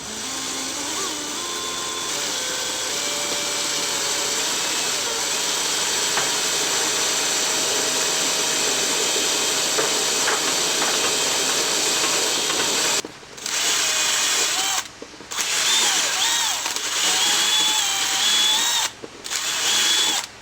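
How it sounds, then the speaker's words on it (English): Power drill boring into a sailboat hull to install underwater lights: a loud, continuous motor whine held for over ten seconds, then stopping and restarting in several short bursts near the end. "I'm not actually going to drill right through with this."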